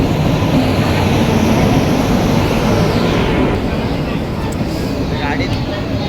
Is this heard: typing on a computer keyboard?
no